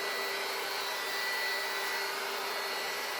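A heat gun blowing steadily and close while shrink-wrapping a large Easter basket, a continuous even hiss of hot air with no breaks.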